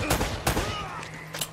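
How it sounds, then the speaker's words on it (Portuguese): Gunfire in the Uncharted: Drake's Fortune video game during a sanctuary level: three sharp, loud shots spaced over about a second and a half, each with a short echoing tail. "Já cheguei, já levou um tiro."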